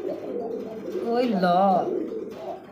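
A pair of Rasgolla pigeons with pitcher-shaped necks, a female and a male, give a drawn-out wavering coo close by, with a person speaking briefly over it.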